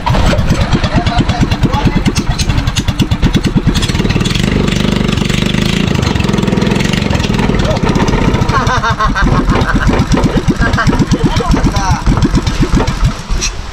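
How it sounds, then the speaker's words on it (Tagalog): A loud fishing boat engine chugs steadily and close by, a rapid rhythmic putter with voices talking over it. "Ganda na, Dison ang ganda ng makina mo ah."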